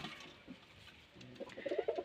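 Rajshahi Giribaz pigeons at a pigeon farm coo in soft, repeated rolling calls, growing louder and more frequent toward the end, with no talking.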